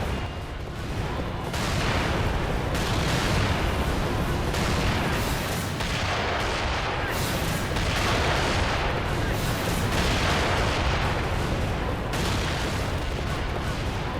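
Heavy cannon fire rolls through a 1526 battle at Mohács, Ottoman artillery pounding armored knights; dense, continuous booming and blasts overlap for the whole stretch at a steady loud level, with no talk.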